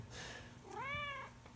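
A pet cat named Cinnabon, a trap-neuter-release tomcat, gives a soft rising meow in a quiet room, preceded by a faint shorter chirp, with no one speaking.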